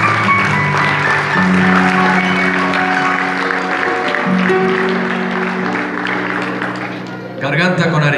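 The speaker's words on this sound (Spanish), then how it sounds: "Damos un aplauso ahí a la gente del sonido y de las luces" Applause from an audience at a municipal transit band's year-end concert, steady and loud, mixed with sustained musical tones, then a voice near the end.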